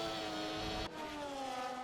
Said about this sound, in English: That Ferrari engine does sound quite different.